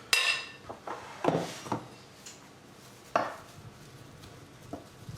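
A knife coarsely chopping parsley on a board, several sharp irregular knocks spaced apart, close and fairly loud with no voice.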